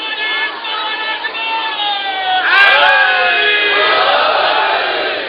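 Crowd at a religious majlis gathering chanting slogans together, a loud sustained mass of raised voices with a sharper collective shout midway, continuing strongly to the end.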